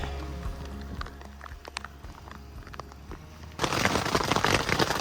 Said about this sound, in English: The storm came in. It's hailing.